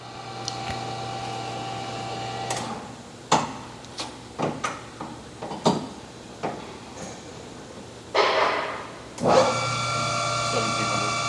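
TRAK 14 by 40 inch CNC toolroom lathe running with a steady motor hum while the carriage is moved left and right, broken by a series of sharp clunks and mechanical knocks, close by.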